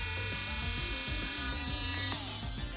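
A Dremel rotary tool whirs at high speed on a plastic action figure. The buzzing motor is close and steady, its tone dipping in short repeated pulses as the bit bites into the workpiece.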